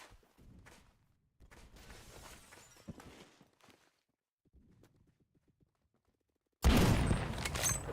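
Gunfire from a BFG gun in the video game Phantom Forces: scattered faint bursts and taps give way to one sudden, loud blast that rings out near the end.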